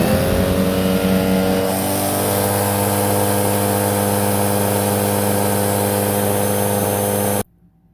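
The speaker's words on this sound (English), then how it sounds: "the suction test for the brush roll on with the HEPA filter in place" A Eureka Smartvac upright vacuum runs a suction test with the brush roll on and the HEPA filter in place, giving a steady loud motor whine that shifts pitch early on, holds, then cuts off abruptly near the end.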